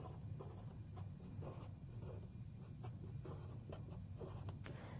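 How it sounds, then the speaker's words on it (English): Math steps written out on a board make soft, rapid scratching and tapping strokes that continue steadily over a constant low room hum, close and fairly quiet, with no speech. "I'm going to rewrite it over here so I have room to write"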